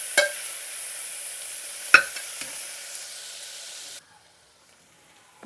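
Onions sauté in a pan with a loud, continuous close-up sizzle and hiss, broken by a couple of sharp utensil clicks, before cutting to near silence near the end.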